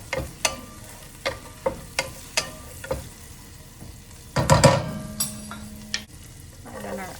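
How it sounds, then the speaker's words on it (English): Three cloves of garlic frying in two tablespoons of butter, stirred with a wooden spatula, sharp repeated spatula taps against the pan over a low sizzle, with a louder clattering scrape near the middle. "added our 2 tablespoons of butter, and now we're adding in our 3 cloves of garlic"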